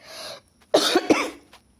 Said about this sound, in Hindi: अभी भी मेरी खांसी एकदम ठीक नहीं हुई है, तो बीच बीच में खांसी भी आते जाती है।